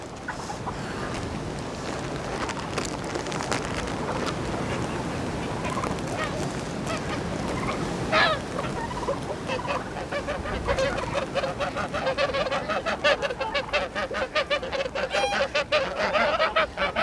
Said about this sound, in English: they are the Franconian geese that we actually hatched out from the eggs that we had